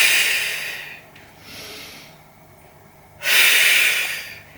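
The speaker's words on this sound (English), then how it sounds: "Breathe in, breathe out." Deep breathing during a total body workout: a long forceful exhale through the nose, a softer breath in, a pause, then another strong exhale, close and clear with no talk.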